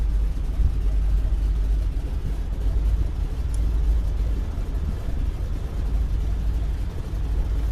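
A DHC-2 Beaver seaplane's radial engine idles in Microsoft Flight Simulator 2020, a steady, loud, low rumble that holds without change throughout.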